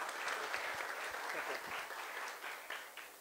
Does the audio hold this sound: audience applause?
yes